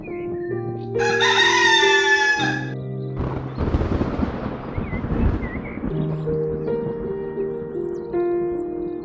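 A rooster crows once, loud and close, followed by a rustling noisy burst and then light musical tones.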